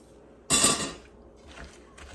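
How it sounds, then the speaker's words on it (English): Metal spoon scraping and clanking through egg noodles and frozen peas in a cooking pot, one loud stir followed by quieter scrapes, close and alone. "give it a stir"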